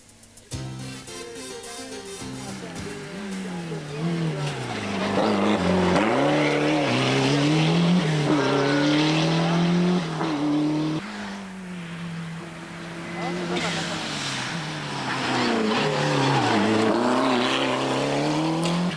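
A Ford Sierra Cosworth rally car racing on a special stage at the 1993 Rallye de Madiran, engine screaming loud and near as it revs up and down through gear changes for the whole run.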